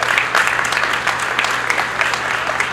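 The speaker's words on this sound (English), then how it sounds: "Please give them a round of applause as well." A room full of people applauds Forest Park officials and fire department members at the opening of a county satellite office, giving a steady, dense ovation that lasts the whole moment.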